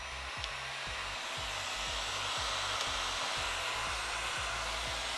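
A heat gun set around 400 degrees blows a steady, even whooshing drone while heating the metal tip of a reMarkable 2 button, with a faint repeating low tick beneath; no one speaks.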